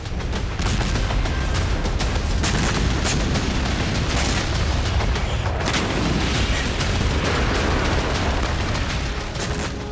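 Continuous heavy rumbling with repeated booming blasts from Israeli military strikes in Syria, loud and dense throughout, like a barrage of explosions with no speech.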